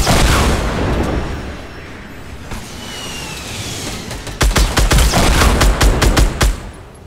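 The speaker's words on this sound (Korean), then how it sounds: "유탄 발사 날라온다" Grenade launcher fire in Fortnite: a rumbling blast opens, then a rapid string of sharp, loud shots fires in quick bursts over a steady background of game noise.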